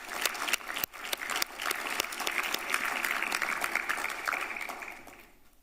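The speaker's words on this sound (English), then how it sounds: "So a round of applause to all of us." Applause from delegates seated around the table at a World Health Organization regional committee session, a steady patter of many hands that holds for several seconds and then fades out.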